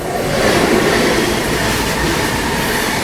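The Bundelkhand Express rolls slowly off a loop line, a loud, steady rumble of the train with wheel and rail clatter and faint squeal. It stays continuous and close throughout, with no talking.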